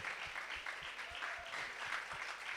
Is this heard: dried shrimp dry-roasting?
no